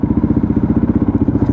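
Kawasaki KLR650 single-cylinder motorcycle engine thumping steadily while riding, a close, loud, regular pulsing drone with slight rattle throughout.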